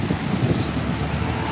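Motor traffic passing on a street in Colombia, with motorcycles among it: a steady, moderately loud engine rumble and road noise from vehicles going by close, with no talk.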